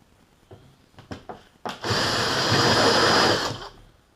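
A power drill with a step bit re-drills holes in iron for a corner shelf, starting with a few short taps and then whirring steadily for about two seconds before stopping, close and loud.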